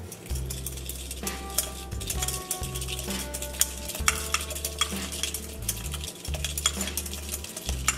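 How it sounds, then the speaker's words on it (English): A spoon stirs sugar into a homemade salad dressing, making soft repeated scraping and light clinking against the bowl over a steady low hum. "And then about a tablespoon of sugar. You're going to stir that up."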